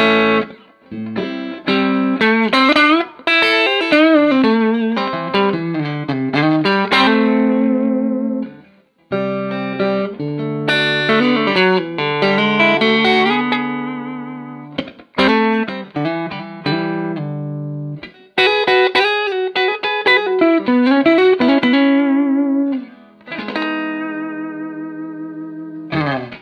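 Electric guitar played through a Carr Skylark amp with reverb: loud, clean melodic phrases and chords ringing out in bursts with short pauses between them, the notes trailing off in a spacious reverb tail.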